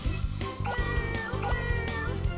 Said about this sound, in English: Got a calico cat.